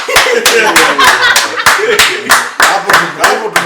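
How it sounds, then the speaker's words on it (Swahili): A room of people bursts into a round of hand clapping, loud and close, with rapid irregular claps lasting several seconds while voices and laughter mix in. "Mama ya huyo jamaa apigie makofi"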